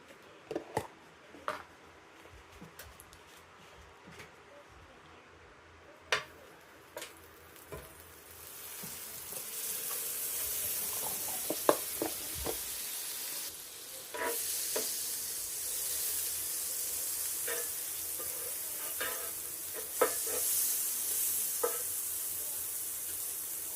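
Vegetable butter sizzles in a pan as ginger, sesame and green chilli wait nearby, starting with scattered crackles and pops, then building after a few seconds into a steady, close hiss with intermittent sharp spits.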